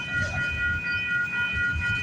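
A CP freight train rolls slowly out of Toronto's Agincourt Yard, a steady low rumble of rail cars with a faint high whine, continuous and moderately distant, with no voices.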